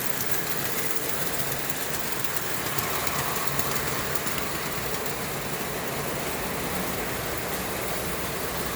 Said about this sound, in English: This little engine does a good job with as many cars as it's got.